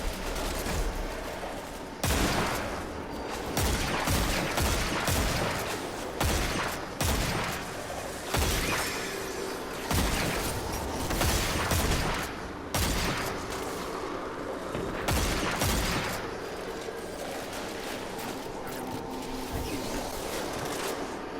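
Dead Man's Tale gun firing in a video game, repeated sharp shots in irregular bursts at moderate level over a busy game background, no talking.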